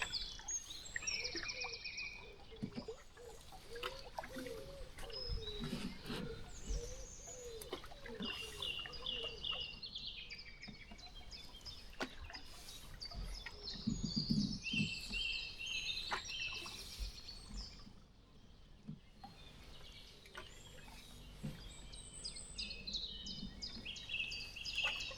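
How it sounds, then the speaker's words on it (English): A song thrush sings repeated bright phrases along the River Waveney during a canoe trip. The song is fairly distant and comes in bursts over soft background water sounds, with no voices. "Goodbye, song thrush."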